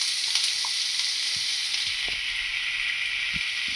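Chopped onion and mushrooms frying in a pan give a steady, close sizzle with continuous bright hiss and a few soft stirring knocks, no voices.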